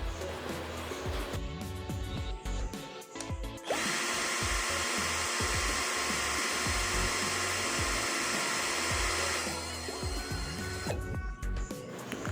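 An Uchiha 42V cordless drill runs at speed setting 1, giving a steady whine in the middle of the clip. Before and after it come quieter handling clicks and knocks, and no one speaks.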